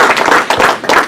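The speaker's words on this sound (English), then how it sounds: "Let's have a nice round of applause" Brief burst of clapping at a Rotary club meeting, a room of hands applauding together in a dense, steady patter, fairly loud and close, with no talk over it.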